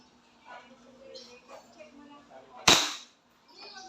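A WE 2011 7.0 Hi-Capa Dragon airsoft pistol with a long barrel fires a single sharp, loud crack on green gas, with quiet talk before and after the shot.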